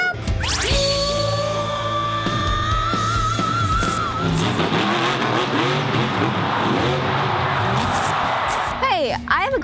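Monster Jam trucks roar and rev around a stadium, their engines climbing and dropping in pitch amid loud crowd noise and yelling, with people talking throughout.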